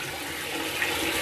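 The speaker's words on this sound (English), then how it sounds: "We add more water in again." Water being poured into rice to rinse out the starch, a steady rushing splash lasting just over a second with no talk.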